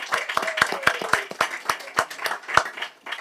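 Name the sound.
applause for city employees at council meeting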